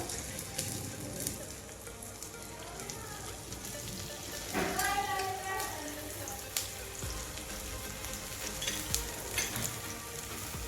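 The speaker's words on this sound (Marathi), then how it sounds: "तूप टाकून आता हे थालीपीठ आपण छान खरपूस भाजून घेऊ" Sabudana thalipeeth, a fasting-style flatbread, fries in ghee on a pan with a steady close sizzle and dense crackle, rising briefly into louder spitting and popping near the middle, with no voices.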